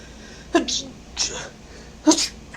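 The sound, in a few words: sneeze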